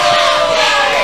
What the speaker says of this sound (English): And the crowd is chanting for him.